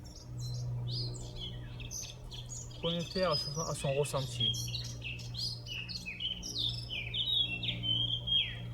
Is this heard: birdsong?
yes